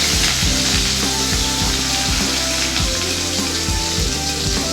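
Chopped onion and crushed garlic frying in hot oil for a potato fry, a loud continuous sizzle with scraping stirs from a spoon against the pan repeating throughout.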